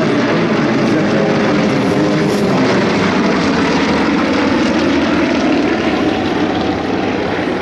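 Yakovlev propeller aircraft flying an aerobatic display at the Air Legend 2022 air show, a loud, continuous engine drone and propeller roar held close throughout with no talk.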